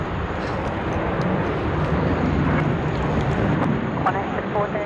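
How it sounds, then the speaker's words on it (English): Domestic airliner departures taking off at Sydney Airport, a loud continuous broad roar of jet engines from a distance with wind noise, with faint talking underneath. "we've just got a couple of domestic departures that are going at the moment"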